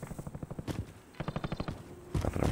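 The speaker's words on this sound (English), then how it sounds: "There, but I can hear the gunshots." Bursts of rapid automatic gunfire in the video game Warzone, quick rhythmic pops in short strings with brief gaps, moderately distant.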